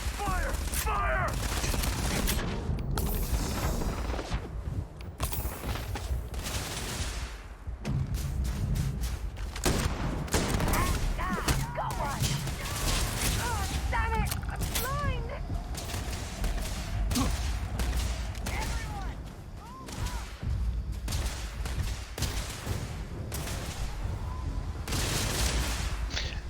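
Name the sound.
gunfire in the video game Starfield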